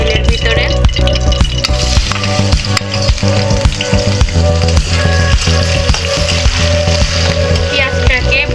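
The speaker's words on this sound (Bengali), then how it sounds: "পেঁয়াজটাকে ব্রাউন কালার করে ভেজে নিতে হবে" Chopped onion frying in oil in a kadai, a steady dense sizzle running throughout with scraping stirs, while background music or voices play underneath.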